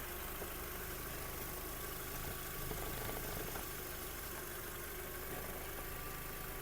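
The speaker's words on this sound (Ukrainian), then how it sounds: "Мотор працює тихо, рівно, не димить, не труїть." A 2007 Skoda Octavia A5 with a 1.6 MPI petrol engine idles quietly and evenly, giving a steady, unchanging hum that runs alone throughout.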